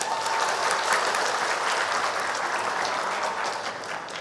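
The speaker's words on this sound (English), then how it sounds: "Give applause to us." Sustained, dense applause from an audience at a university awarding day ceremony, loud and even throughout before easing slightly at the end.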